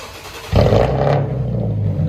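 After a moment of quiet, the 3.7L V6 engine of an Infiniti G37XS Sport suddenly roars into a loud rev close by, then settles into a deep, steady rumble.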